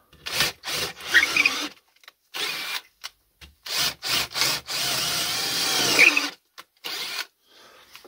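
A blue Bosch 12V battery drill, powered from a car battery, whirs in repeated short bursts of varying length, close and loud, with brief silent pauses between runs and no talk.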